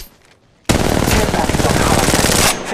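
Loud sustained automatic gunfire from a shooter in Apex Legends Mobile bursts in after a quiet half second. It rattles on in a dense, rapid stream for about two seconds before cutting off.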